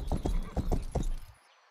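Horse hooves clip-clopping in the video game Rustler, about six quick, close hoofbeats in an even trotting rhythm that stop abruptly and leave silence at the end.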